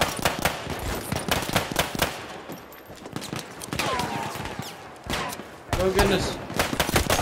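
Rapid bursts of video-game pistol fire crackle through most of the stretch, fairly close and loud, with short pauses between volleys while someone talks over the shooting.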